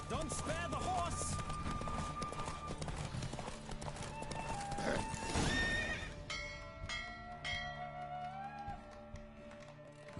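Hoofbeats of a horse galloping in a race in The Witcher 2, with whinnies and a brief bell over game music and voices, the hooves pounding steadily throughout.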